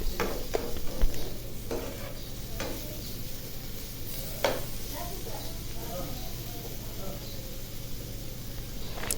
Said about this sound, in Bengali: দেখুন করলাটা ভাজতেছি